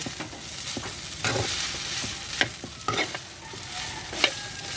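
Leftover cooked rice sizzles and fries in a pan while a utensil scrapes and stirs through it in irregular strokes, close up and steady.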